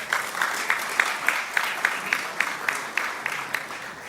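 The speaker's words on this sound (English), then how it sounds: "You can go ahead, clap for that." An audience at the 36th Caribbean Broadcasting Union Media Awards Gala applauds in a steady, dense wash of clapping, with rhythmic unison claps standing out at an even beat throughout.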